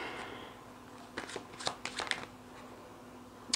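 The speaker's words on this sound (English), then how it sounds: "And now I'll begin to shuffle." Tarot cards being shuffled by hand, close quiet bursts of papery riffling and slapping, several brief clusters in the middle and one at the end, with near silence between them and no speech.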